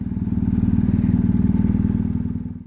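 A motorcycle rumbles along the Susten Pass road in Switzerland, a close, loud engine drone with rapid rhythmic pulsing that holds steady, then fades slightly at the end.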